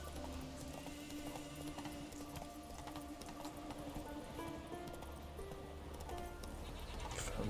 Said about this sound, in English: Found the goats.